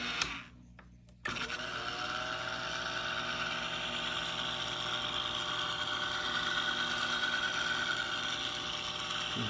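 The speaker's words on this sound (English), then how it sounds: "now I'm going to switch directions on the motor, going the other direction" VPI HW-17 record cleaning machine motor turning the platter in reverse, a steady close mechanical whir with a faint brushing texture, starting after a brief quieter moment and running evenly, no talking.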